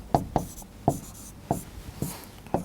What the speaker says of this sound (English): So let's write it, 2A1